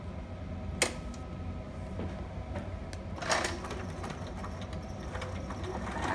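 A home sewing machine stitching a zigzag seam with a quarter-inch seam allowance, a quiet steady mechanical whir with faint rhythmic clicks and a couple of sharper knocks.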